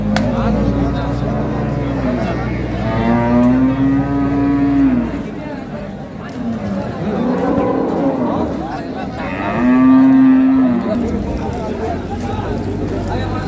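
Dairy cows at a livestock market give several long, loud moos, one after another, close by, over a steady crowd murmur with people talking throughout.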